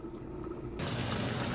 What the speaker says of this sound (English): Let me turn the water off.